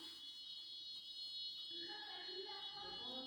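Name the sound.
building fire alarm ringing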